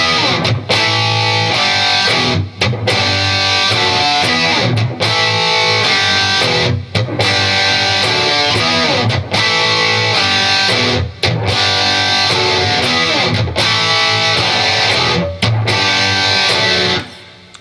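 Distorted electric guitar plays the ending of a song, loud and dense with heavy sustained chords broken by brief rhythmic gaps, and no voice over it.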